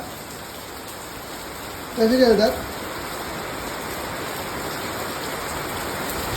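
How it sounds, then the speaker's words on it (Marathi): Steady rain hisses evenly throughout, with a short burst of talking partway through. "पाऊस पडतोय"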